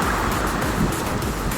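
Rough sea waves roll in with a steady, loud wash of surf and wind rumble, continuous and close, without talking.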